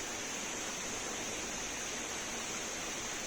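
A river stream at the Tin Tok Royal Project resort flows steadily, a soft continuous hiss of running water at moderate distance, with no talk.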